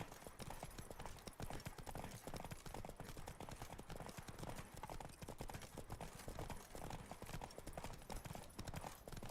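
Horse hooves gallop in steady rapid clip-clop rhythm in The Witcher 3: Wild Hunt on PC, loud and continuous over a constant rush of wind, with no talk.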